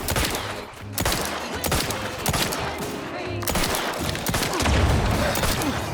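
Rapid shotgun and revolver gunfire in The Outer Worlds 2, a dense run of loud shots with booming low impacts and a heavier blast near the end, game sounds layered over one another.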